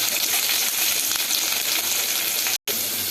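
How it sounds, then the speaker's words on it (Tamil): Sliced onions and chillies fry in hot oil for tamarind rice, a dense, steady close-up sizzle with a very brief dropout near the end. "ரெண்டு பெரிய வெங்காயம் எல்லாத்தையும் போட்டு பொன்னிறமாக வதக்கிக்கலாம்"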